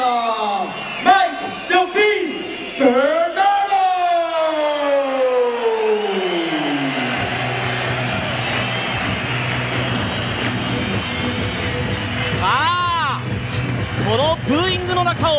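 An arena crowd at a 1997 K-1 fight night in Switzerland boos as fighter Mike Bernardo enters, a loud continuous roar with sweeping siren-like horn tones rising and falling over it.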